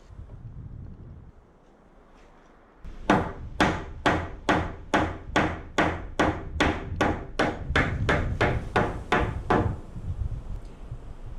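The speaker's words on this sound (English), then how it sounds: "I resorted to a little extra tappage with the hammer." A rapid series of about eighteen sharp hammer taps on wooden balcony railing posts, evenly spaced and close by, following a quieter stretch of low rumble.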